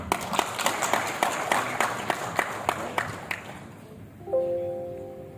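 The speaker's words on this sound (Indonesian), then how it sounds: "Tepuk tangan." Audience applause at a public forum, a burst of scattered clapping with sharp individual claps for several seconds before fading, followed by a brief tonal hum near the end.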